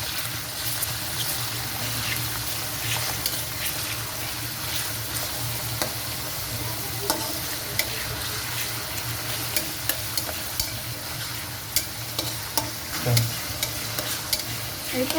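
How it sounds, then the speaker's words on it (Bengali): Prawns and chicken, joined by mushrooms, fry together in a pan for chowmein. There is a continuous close sizzle broken by frequent scraping stirs and small clicks, with no talking. "চিংড়ি মাছ দিয়ে দিলাম। চিকেন দিয়ে দিলাম। এগুলো আমি একসাথে ভেজে নিচ্ছি।"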